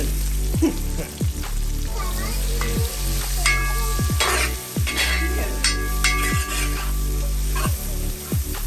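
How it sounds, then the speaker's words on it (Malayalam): Ingredients for chicken curry sauté in hot oil in a pan, a loud continuous sizzle with repeated scraping stirs throughout and spattering bursts, close up with no talk. "ഇത്രയും സാധനങ്ങളൊക്കെ ഇട്ട് നല്ല രീതിയിൽ അങ്ങോട്ട് വഴട്ടി എടുക്കണം"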